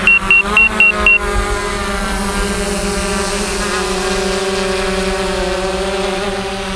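An Autel EVO drone taking off outdoors on a breezy day. A few short beeps come first, then a loud, steady propeller whine that holds close and constant.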